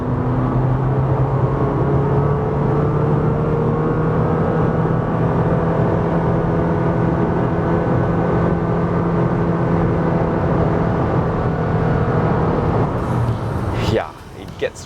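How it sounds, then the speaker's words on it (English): A car engine drones loudly from inside the cabin while accelerating to overtake, its hum climbing steadily in pitch before dropping off abruptly near the end. "it gets really loud when you try to go a bit faster and pick up speed"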